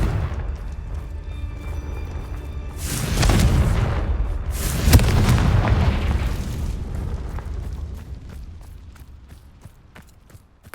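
A Confringo spell explosion in the video game Hogwarts Legacy, a deep booming blast that swells, peaks with a sharp crack, then rumbles and fades over several seconds into scattered debris clatter.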